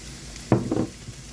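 Browned ground meat in a hot pan hisses in a sudden loud burst of sizzle as a tablespoon of Worcestershire sauce goes in, lasting under half a second before settling back to a low, steady fry.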